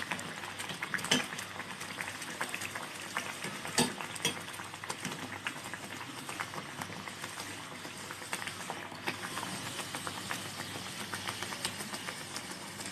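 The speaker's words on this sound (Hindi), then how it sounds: "लो फ्लेम पे ही फ्राई करेंगे।" Konkani cucumber ghari (phugi ghari) dough rounds fry in oil over a low flame, giving a steady, soft sizzle and bubbling with occasional faint clinks of a utensil and no talking.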